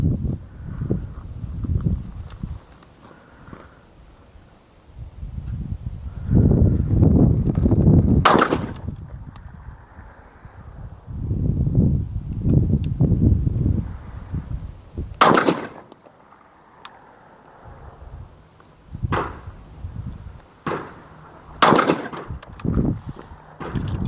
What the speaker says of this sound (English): I just shot my first group